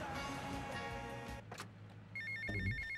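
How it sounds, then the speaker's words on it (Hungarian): An in-game telephone rings in GTA Vice City on Xbox, a steady electronic ring tone over low engine rumble and game noise, with no talk over it. "Na megint csörög ez a kibaszott telefon"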